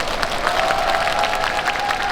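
Audience applause at the Busan International Film Festival open talk for the Netflix film Uprising, a steady even wash of clapping and crowd noise held throughout, fairly distant and without talk.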